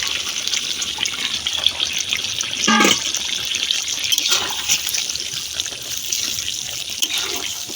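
Water runs from a tap as a dish that held marinated duck is rinsed and the water poured into a cooking pot of duck curry: a continuous close trickling splash with a few brief clinks of crockery.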